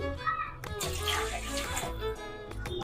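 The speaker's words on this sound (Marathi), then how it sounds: "लॉंग ग्रेन बासमती राईस स्वच्छ धुवून घेते" Long grain basmati rice is swished and rinsed in water, with close sloshing and splashing that runs in uneven surges through the short stretch.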